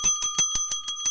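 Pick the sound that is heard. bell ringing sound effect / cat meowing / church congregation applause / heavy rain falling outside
bell ringing sound effect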